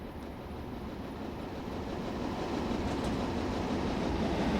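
Simulated British Rail Class 58 and Class 40 diesel trains running on the North Wales Coast line in Train Sim Classic, with a steady, dense rumble of engine and rolling wheels that swells slightly louder throughout, no voices.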